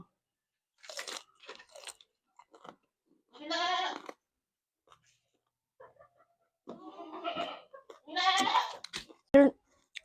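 Crisp lechon kawali with vinegar and cucumber is chewed up close in separate crunchy bursts, with quiet pauses between bites and no speech.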